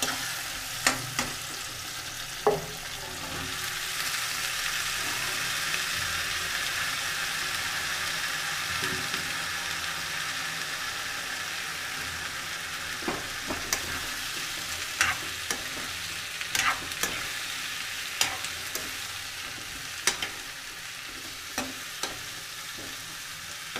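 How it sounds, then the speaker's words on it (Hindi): Mixed vegetables sizzle and fry in a pan for a desi-style mixed veg dish, with a steady broadband hiss and scattered clicks and scrapes of stirring throughout, no talking. "अब इसमें अपनी सब्जी डाल देंगे जो अपने मिक्स वेज बनाई है, और फिर इसको हिलाना है।"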